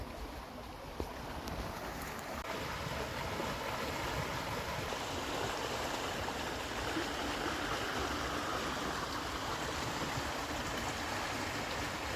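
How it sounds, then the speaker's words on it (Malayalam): Steady, broadband rush of flowing water fills the whole stretch, a continuous roar like a waterfall or fast stream heard close by, with no voices. "മഴ പെയ്യുമ്പം ഇങ്ങനെ നമ്മുടെ ഇവിടെ കാണപ്പെടുന്ന ഒരു വെള്ളച്ചാട്ടത്തിൻ്റെ വരവാണ്"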